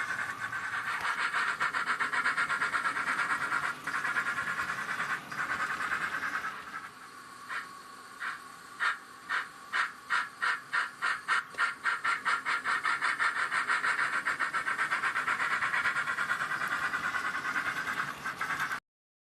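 A Rapido LBSCR E1 model steam locomotive in BR black runs with its sound unit. A steady steam hiss gives way to a clear train of rhythmic chuffs that speed up, then fade back into a continuous hiss.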